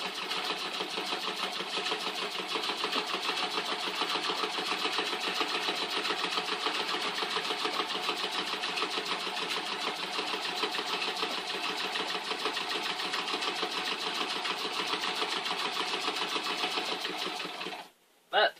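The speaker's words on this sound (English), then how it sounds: "let's chain sew" Treadle sewing machine chain sewing quilt pieces, a fast, even mechanical clatter running continuously at close range before stopping abruptly at the end.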